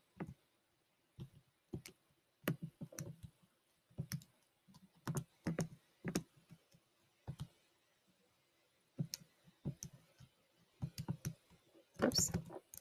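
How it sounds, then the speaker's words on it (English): Computer keyboard typing as an equation is entered, with irregular bursts of clicking keystrokes separated by short pauses, fairly close and moderately loud, with no talking. "let me type this equation in."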